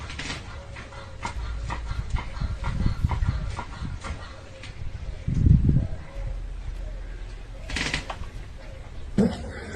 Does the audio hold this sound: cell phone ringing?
no